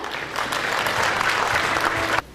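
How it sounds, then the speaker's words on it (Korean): An audience at a medical street festival in Busan claps in a dense, steady burst of applause, close and continuous, ending abruptly. "박수로 모시겠습니다"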